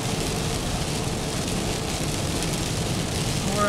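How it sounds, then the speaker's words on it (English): Steady rain drums on a car's roof and windshield while driving on the highway into Spartanburg, a dense even hiss with road noise underneath, no talking. "we're coming into Spartanburg, and it's still raining"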